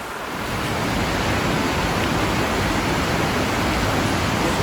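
Floodwater rushes like a waterfall in a flooded Pahang village in Malaysia, 2021: a loud, continuous, broad roar of pouring water that holds steady throughout, close by, with no voices.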